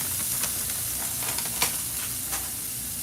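Gardein plant-based ground beef sizzles steadily in a pan of hot avocado oil, a dense, even crackle with a few sharper pops near the close, no voices over it.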